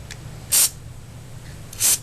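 Lubricant is sprayed onto a receiver holding fixture at a gunsmithing bench in two short, sharp hissing bursts about a second apart, close by, over a low steady background hum.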